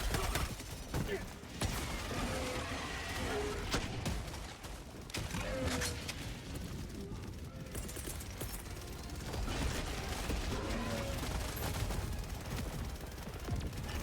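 Sentry turret in Helldivers 2 rattling off sustained automatic fire amid a dense, loud battle wash, with mechanical clatter and scattered bursts continuing throughout.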